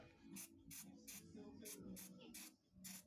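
Cleaner is sprayed in short, sharp hissing bursts onto the throttle body of a Rs 125 Fi motorcycle, seven quick squirts in an irregular rhythm, faint and close with no talk.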